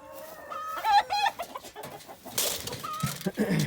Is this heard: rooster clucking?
yes